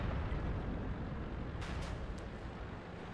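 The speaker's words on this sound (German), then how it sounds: "Nee, da wird aber brutal geschossen." Heavy gunfire and explosions from World of Tanks rumble low and muffled at a distance, with a few brief, sharp pops cutting through the steady din.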